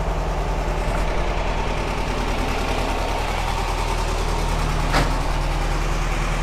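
Warmed-up 1967 VW Karmann Ghia engine idling steadily with a low, even rumble, heard up close and alone, with one brief click partway through.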